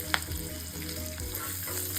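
A Marathi tadka of spices, asafoetida and curry leaves crackles and sizzles in hot oil, a steady close hiss with sharp pops, made for suralichi vadi.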